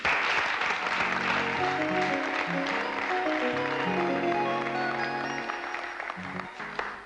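A large television studio audience claps continuously, loud and sustained, with a few musical tones drifting underneath.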